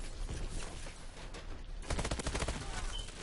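Rapid gunfire from the video game Call of Duty Advanced Warfare, a dense burst of automatic shots growing louder in the second half, with no talk over it.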